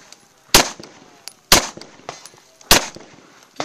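Pistol shots in a video game ring out three times at uneven intervals, each a loud, sharp crack with a short tail, over a quiet background.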